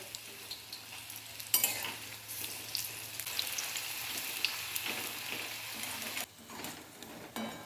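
Dime shak leaf pakoras bubbling as they fry in hot oil, a steady crackling sizzle with a few sharp pops and stirring clinks, close and continuous before easing near the end.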